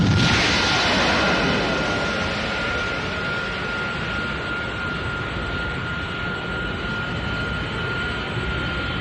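Sci-fi thrusters firing in the anime Bubblegum Crisis Tokyo 2040: a loud, steady jet-like roar with a thin high whine, sustained throughout without letting up.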